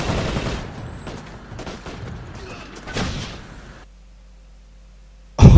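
Bombing and gunfire in the video game Toy Soldiers: Cold War, a rumbling stretch of scattered blasts and crackling shots at moderate loudness, then a brief near-silence before a sudden loud boom at the end.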